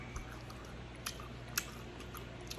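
Someone chewing Pizza Hut pan pizza with soft, crunchy-edged dough: faint, close, wet mouth sounds with a few sharper crunchy clicks spread across a quiet background.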